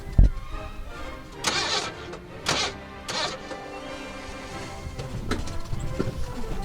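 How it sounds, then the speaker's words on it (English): A stock car engine cranks and starts, then runs with a rough, revving rumble, loud and close, with bursts of throttle across the stretch and no talk. "Just listen to this engine sing."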